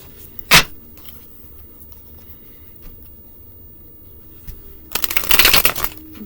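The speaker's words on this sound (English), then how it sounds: "Let's see how they shuffle." Matte-finish tarot cards are riffle shuffled up close: a single quick ruffle, a quiet pause with faint handling, then a longer, louder burst of rapid fluttering snaps as the slightly oversized cards bend and interleave.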